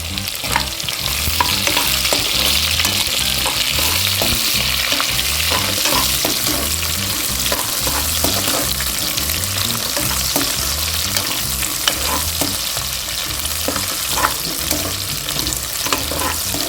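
Chilies, curry leaves and onions sauté in a pan for tamarind rice, a steady loud sizzle with repeated scraping stirs running throughout, no voices.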